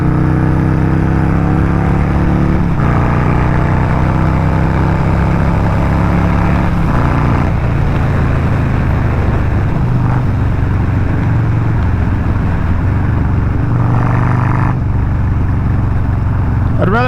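A Harley-Davidson muscle bike engine, just finished its break-in, runs loud and close with a steady low rumble, its pitch rising and dropping through several revs.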